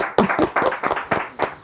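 A handful of people clap in short, uneven bursts, close and fairly loud, lasting under two seconds.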